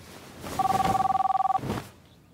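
A telephone rings in the Kebab Chefs restaurant simulator video game, a steady electronic trill of rapid, evenly pulsed beeps lasting about a second, loud and close over faint background murmur.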